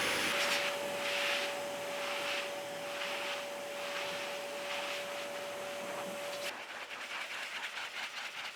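Steady, loud rush of blowing air with a constant whine from a BlowAir RS car dryer drying an Audi S5, ending abruptly after several seconds into a lower, fluttering hum.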